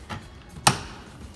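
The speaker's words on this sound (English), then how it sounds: "Work your way around, popping all of the clips" A soft knock followed by a single sharp plastic pop as a trim clip releases from a 2017 Subaru WRX door panel, close by, against faint background noise.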